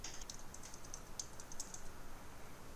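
Typing on a computer keyboard during software data entry, a quiet run of light, irregular key clicks with a few slightly sharper taps, heard alone with no talking.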